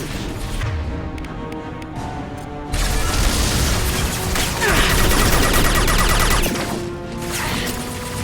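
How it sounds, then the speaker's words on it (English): A loud, heavy gunshot fired during combat in the video game Mass Effect 2, set within dense battle noise of crashes and booming impacts, sustained and close throughout. "Firing a high-impact shot."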